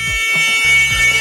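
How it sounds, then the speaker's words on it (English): An emergency alarm on a school bus sounds loudly and close by, a harsh pulsing electronic buzz that repeats in quick bursts over a steady high whine. "It's even got an alarm."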